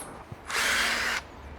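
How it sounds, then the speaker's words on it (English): A power drill bores a hole for a ridge beam: one short burst of high whining spin, close and loud, lasting under a second between quiet pauses. "Now I've got the hole drilled"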